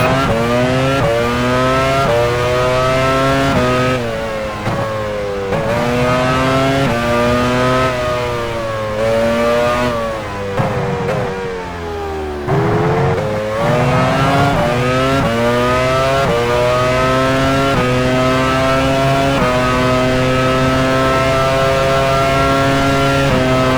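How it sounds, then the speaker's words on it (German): Formula 1 race cars scream around the Sepang circuit in a 2000 Malaysian Grand Prix on the F1 Challenge 99-02 video game, loud high-revving engines rising and falling through gear changes, continuous and dense throughout. "Verstappen fährt in die Boxengasse"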